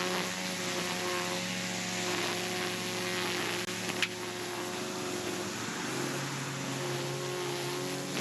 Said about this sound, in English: Then I hit the edge with a string trimmer in an attempt to hit the overhanging grass.